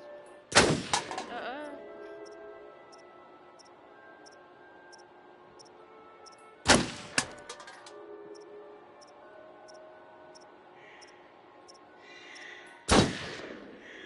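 Gunshots in the video game Until Dawn: three sharp, loud single shots spaced several seconds apart, each with a short ringing tail over a quiet background.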